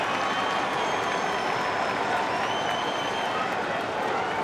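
A packed World Baseball Classic crowd at a 2009 Puerto Rico vs Venezuela game roars in a dense, continuous wash of cheering and clapping with bells, thunder sticks and horns blended in, and a broadcaster's voice faintly beneath.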